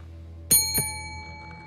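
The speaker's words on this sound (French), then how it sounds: "Il y a quelqu'un qui a appuyé sur la sonnette." A doorbell in the horror game The Devil in Me rings twice in quick succession, two bright chimes close together over a quiet ambient background.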